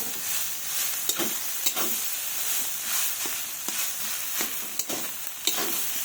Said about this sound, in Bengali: এটাকে ভালোভাবে ভেজে নেব।